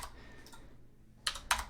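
A few quick key taps on a computer keyboard land near the end after a near-silent stretch, crisp and close but faint.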